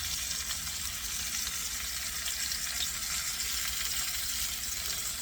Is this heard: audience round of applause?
no